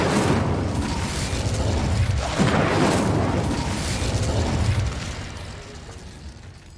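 An Incendio fire spell cast in Hogwarts Legacy roars out as a dense, sustained fiery blast with a booming swell partway through, fading away over the last couple of seconds.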